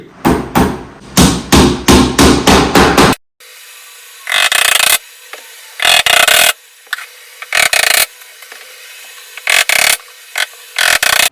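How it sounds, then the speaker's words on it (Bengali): Rapid hammer blows on a wooden board ring out in a fast series, then come in separate spaced bursts of strikes, loud and close, with no talking. "আমি হাতুড়ি দিয়ে টাকাটাকি করি"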